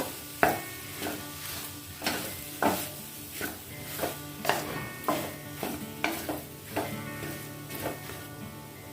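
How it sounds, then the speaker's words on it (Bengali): Mashed potato being worked by hand into a fish mixture for fish fingers, giving soft, repeated squelching and slapping pulses at a steady rhythm, close and fairly quiet, with no talking. "আলুটাকে বেশ ভালো করে চটকে নিয়েছি, এবার এটা আমি এর মধ্যে দিয়ে দেব। এটাকে খানিকটা মিশিয়ে নেব।"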